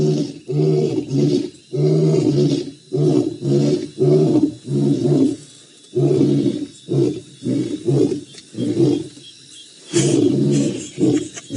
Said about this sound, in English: but Taylor has lions roaring again